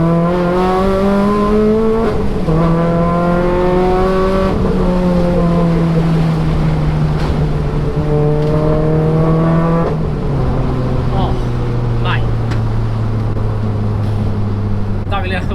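Renault Sport Clio road-legal rally car engine droning and rising through the gears while driving, loud and continuous with revs climbing then dropping at shifts, cabin roar throughout.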